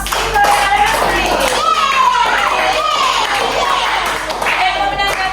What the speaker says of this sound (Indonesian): mana tepuk tangannya untuk kelompok Simpole Elementary?